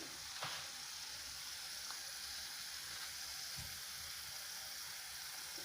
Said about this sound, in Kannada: ಜಿಂಜರ್ ಪೇಸ್ಟ್ ಸ್ವಲ್ಪ ಫ್ರೈ ಮಾಡಬೇಕು